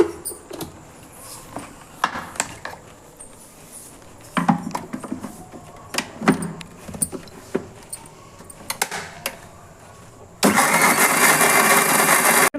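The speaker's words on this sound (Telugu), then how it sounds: "first mixie పట్టుకున్నాము" Scattered clicks and knocks of a mixer grinder being handled, then its motor roaring loud and steady while grinding ginger, dry chillies and salt for peanut chutney.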